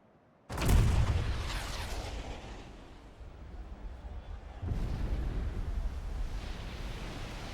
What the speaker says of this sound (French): Un tir vient d'être effectué avec le grand canon Hamako, le célèbre symbole de Junon.